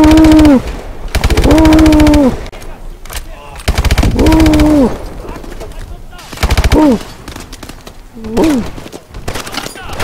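Rapid bursts of automatic gunfire from the Call of Duty Advanced Warfare video game, several loud sustained volleys separated by short gaps, with a player talking between them.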